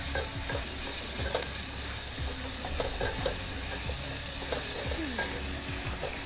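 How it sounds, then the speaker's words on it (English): Onions sizzle loudly in hot oil as they are stirred, a steady bright frying hiss with repeated scraping stir strokes throughout, no voices. "Drop in the onions. Give them a good stir."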